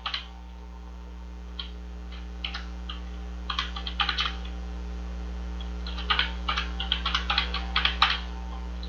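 Computer keyboard typing in bursts of quick clicks, alternating with pauses, close and moderately loud over a steady low electrical hum, entering text while making a business card in CorelDRAW.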